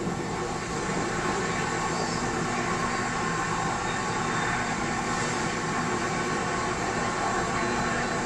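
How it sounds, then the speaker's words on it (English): NASA's shuttle carrier aircraft, a jumbo jet carrying Space Shuttle Endeavour, flies low over the Space Coast with a steady, loud broadband engine roar that holds evenly throughout, with no talk. "Space Shuttle Endeavour soaring atop NASA's shuttle carrier aircraft, about to begin a 20-minute flyover of the Space Coast area."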